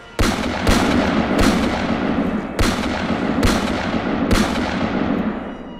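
Six loud gunshots ring out at uneven intervals over a steady low rumble, used as a dramatic sound effect in a Tagalog horror storytelling narration about a security guard firing at an aswang in Pasay.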